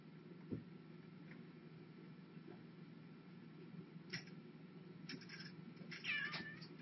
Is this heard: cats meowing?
yes